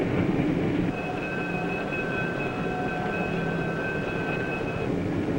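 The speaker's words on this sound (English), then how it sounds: "the train stops only for a moment" A passenger train rumbles steadily with a high metallic squeal of brakes running through most of it as it slows to stop at a station, with no voices.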